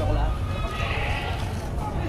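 A goat bleats at a livestock auction in Padre Garcia, Batangas: one wavering, nasal cry close by, set against crowd noise and people talking.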